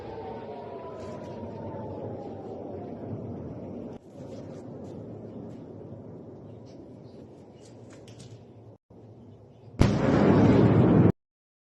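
Missile and air-defense interceptor explosions over the Negev desert, heard as a continuous rumbling, booming wash of distant blasts with a rising whistle early on, then a sudden louder burst of noise near the end.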